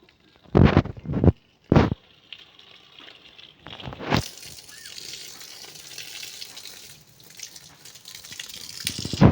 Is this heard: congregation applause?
no